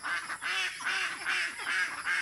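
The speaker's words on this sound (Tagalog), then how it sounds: "daming pato. Pato ba yan? Itik." A flock of ducks quacks near deep water in Davao City, a steady run of nasal, rhythmic quacks repeating several times per second, moderately close and with no talk.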